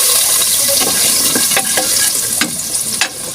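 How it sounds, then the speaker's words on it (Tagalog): Garlic sautés in hot pork fat for a mung bean stew, a loud, close, steady sizzle broken by scraping stirs and small pops. "Gisa na tayo ng bawang"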